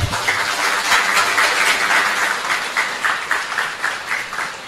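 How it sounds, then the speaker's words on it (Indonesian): Steady, full applause from a large audience at an Islamic boarding school gathering for Indonesian Independence Day, dense clapping sustained throughout at close range, with a rhythmic pulse emerging toward the end. "Tepuk tangan untuk beliau."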